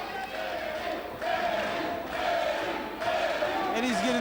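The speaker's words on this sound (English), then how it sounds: "The crowd's getting into this main event." A boxing crowd at a main event fight in a hall, loud sustained cheering and chanting that surges in waves, with pitched yells rising above the roar and a commentator talking over it.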